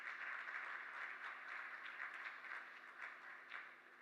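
Faint, distant applause from a seminar audience at the ICAI Muscat Chapter in Oman, a thin steady patter of many hands welcoming a session speaker.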